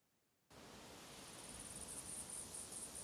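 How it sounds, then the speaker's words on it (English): Generic outdoor ambience from the Prehistoric Kingdom video game: a steady bed of soft wind rises after a half-second of near silence, with high, thin cricket chirps pulsing in the background. "this is just some generic ambience, right? Just a bit of wind, some crickets every now and then."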